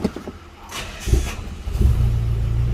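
A Nissan Patrol with an SD33 diesel engine cold-starting after sitting, cranking briefly before catching and settling into a steady, loud low idle close by.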